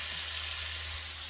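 Prawns hitting a hot pan for spicy garlic shrimp, giving a steady close sizzle and hiss with a low hum beneath, no talking.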